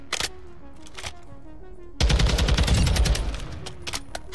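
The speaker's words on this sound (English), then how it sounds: "Watch when I shoot that target in the distance." Taq 56 rifle gunfire in Modern Warfare 2: a few short shots, a pause, then a loud sustained burst of rapid automatic fire from two seconds on, close and clear with no talking.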